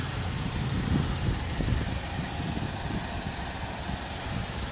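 A 2012 Buick Regal with a 2.4-liter four-cylinder engine idles steadily, a low, even hum under broad hiss that holds at one level throughout, with no voices.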